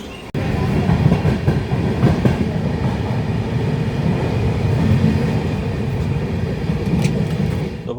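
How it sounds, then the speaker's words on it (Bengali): The 22642 Shalimar Trivandrum Superfast Express sits at platform 3 of Brahmapur station, its loud, steady rumble of carriages and engine filling the air with continuous rail noise and faint metallic clatter throughout. "ট্রেন এসে পৌঁছেছে ব্রহ্মপুর স্টেশনের 3 নম্বর প্ল্যাটফর্মে।"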